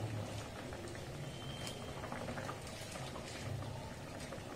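Chicken curry sauce boiling in a pan gives a soft, continuous bubbling and gurgling, faint and close, steady throughout with no talking.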